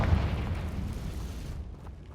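A Confringo blast spell going off in the video game Hogwarts Legacy: a dense, rumbling boom that fills the clip and then cuts off abruptly.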